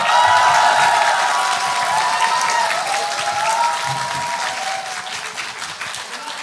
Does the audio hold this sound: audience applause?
yes